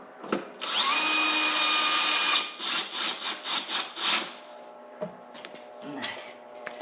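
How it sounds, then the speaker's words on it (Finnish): Power drill driving screws into wooden support pieces for a tree fort build, a sustained loud whir followed by a series of short pulsing bursts, then a few knocks and handling sounds. "Ja sitten painetaan ja ruuvataan kiinni."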